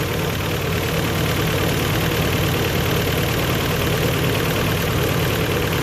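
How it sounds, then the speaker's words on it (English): A Toyota engine idles roughly with a misfire, giving a loud, steady, close-up rumble with an uneven, shaky pulse throughout. "That'll idle. But it's shaking like crazy. Obviously there's a miss in it."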